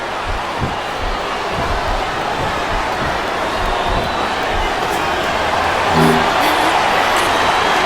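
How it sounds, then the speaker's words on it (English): A steady roar of a large crowd cheering in the distance in the wrestling video game WWE SmackDown vs. Raw 2007 on Xbox 360, continuous and loud, with a brief tonal sound rising near the end. "I think these superstars are getting some feedback from the crowd, JR."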